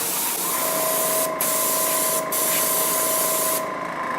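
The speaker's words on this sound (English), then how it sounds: "let's go ahead and start spraying" Continuous loud hiss of a spray bottle misting tie dye pigment, close and steady with a faint whine under it and a couple of brief breaks, no talking.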